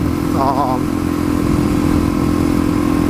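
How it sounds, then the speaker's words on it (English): A Yamaha R1 motorcycle engine drones steadily and loudly throughout a ride, a constant close mechanical roar with wind-like rush and no clear pauses. "I mentioned the R1 I had. I guess we'll talk about that because we got a little ride to go."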